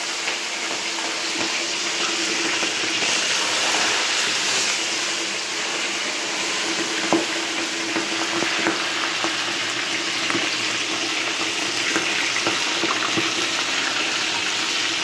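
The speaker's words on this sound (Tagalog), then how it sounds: "pag nagpiprito po kayo ng kahit anong prito, isda o ano, dapat mainit na kagad yung mantika" Fish fries in hot cooking oil in a pan, a steady close sizzle and crackle that runs throughout, with scattered small pops and spits and no voices.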